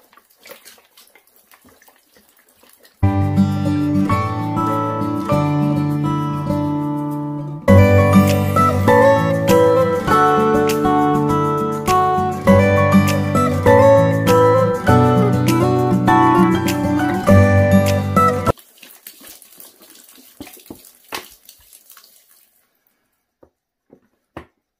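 Two litres of water pour steadily into a block of compressed coco-fibre substrate being prepared for a tarantula enclosure. The flow is loud and continuous for about fifteen seconds, with a resonant ringing tone, then trails off into quiet drips.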